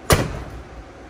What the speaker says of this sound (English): Now, when we close the door,